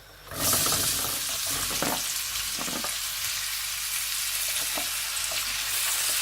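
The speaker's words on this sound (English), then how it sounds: "And now at this stage, I'm first adding the onions." Chopped onions hit the hot pan and start frying in oil for a special fried egg curry, a steady broadband sizzle that jumps up after a quiet start and holds close and loud, with a few stirring clicks and scrapes.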